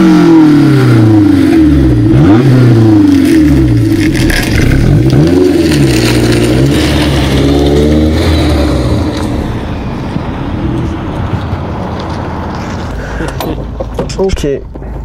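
A Honda S2000 sports car engine revs and accelerates on the road, its rising and falling pitch loud and close through the cabin while occupants speak over it.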